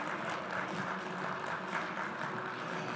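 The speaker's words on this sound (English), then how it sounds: "Round of applause, everyone." Steady applause from a crowd, dense clapping sustained throughout at moderate volume with no talking over it.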